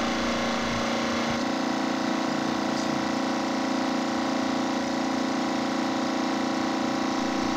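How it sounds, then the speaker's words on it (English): A hydrostatic pump runs steadily while pressurising a firehose for a hydrostatic pressure test, giving a constant mechanical hum and whine with no pauses, close and fairly loud throughout. "Switch on the hydrostatic pump"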